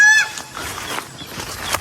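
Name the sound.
turkeys calling on a farm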